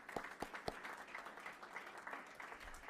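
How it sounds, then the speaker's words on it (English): Faint, distant applause from a small audience, with a few sharp claps at the start, then a soft continuous patter of clapping. "Let's give everybody another round of applause"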